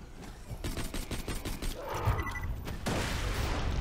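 Rapid pistol shots crack out in quick bursts in Borderlands 2, sharp and close, with a short pause before a denser stretch of gunfire and combat noise near the end.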